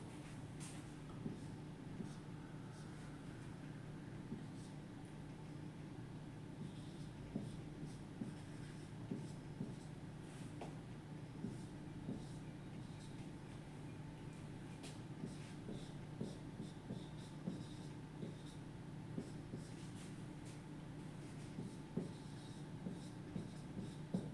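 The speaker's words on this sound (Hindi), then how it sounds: "तो उसके लिए मैं पहले इसको लिखता हूँ" A pen scratches across paper in quick, faint strokes while a physics problem is worked out by hand, a soft continuous scribbling with small taps throughout.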